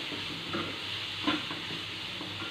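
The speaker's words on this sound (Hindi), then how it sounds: "सब्जियों को हमें ज़्यादा फ्राई नहीं करना है, हल्का सा चलाना है।" Grated cabbage is stirred and lightly fried in a pan, giving a soft continuous sizzle with gentle scraping strokes of a spoon, close and quiet.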